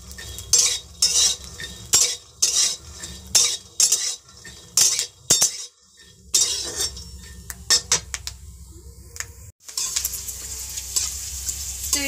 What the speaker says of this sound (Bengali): তো এখানে আমি চিপসগুলো ভেজে নিচ্ছি।